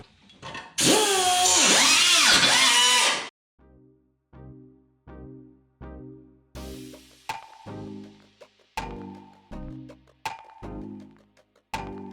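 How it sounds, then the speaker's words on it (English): A high-speed power tool whines loudly through a cut on a metal engine bracket, then stutters in a series of short, rhythmic bursts with brief pauses between them. "So let's go ahead and get to cutting."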